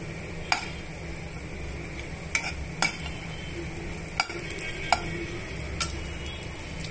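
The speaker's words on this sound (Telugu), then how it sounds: "తగినంత ఘీ వేసుకున్న తర్వాత ఇందాక మనం తీసుకున్న డ్రై ఫ్రూట్స్ని కాసేపు వేగనివ్వాలండి" Dry fruits fry in ghee while a spoon stirs them, giving a soft, steady sizzle broken by a few sharp clicks of metal against the pan, close by with no talking.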